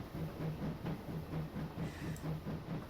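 A simulated train rolls along in a train-driving game, a steady rumbling hiss with a regular low rhythmic clatter repeating every fraction of a second, continuous and even.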